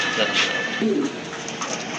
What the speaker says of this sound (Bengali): বিশাল সাইজের একটা লাহোরি নর কবুতর